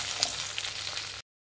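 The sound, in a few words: spices frying in a pan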